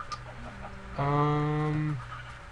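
A Minecraft chicken gives a single drawn-out, nasal cluck lasting about a second over a faint background, with no talking.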